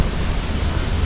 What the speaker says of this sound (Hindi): वाटरफॉल।